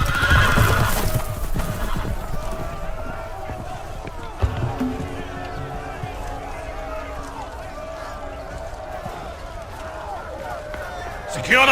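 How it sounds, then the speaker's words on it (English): Loose horses give a sharp, loud whinny at the start, then hooves clatter and thud as they run, with shouting voices over the commotion and a sudden impact midway. "The horses! They're loose!"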